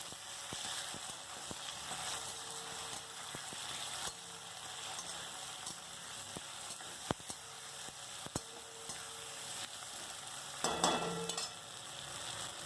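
Ginger paste and masala spices are stirred in a pan for a fish curry, giving a soft, steady frying sizzle with occasional faint scrapes and ticks from the spoon, quiet and continuous.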